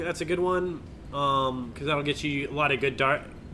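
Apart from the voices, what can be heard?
No distinct noise like a dog, phone or traffic.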